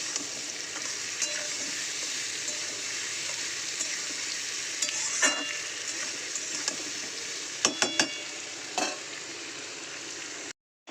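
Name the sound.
potatoes and onions frying in a pan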